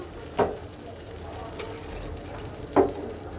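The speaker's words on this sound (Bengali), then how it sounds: "এই আমি দিয়ে দিলাম ঝোলের জল মিক্সড করে দিলাম" Water for the curry is poured into hot oil in a pan while cooking mustard pabda fish and stirred, giving a soft, steady sizzle broken by two short utensil clacks against the pan.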